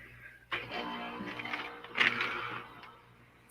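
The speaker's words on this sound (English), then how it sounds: "I hear the air conditioner kick on." An outdoor air conditioner kicks on with a sudden onset, then a loud, steady broadband whir that holds nearby and eases off slightly toward the end.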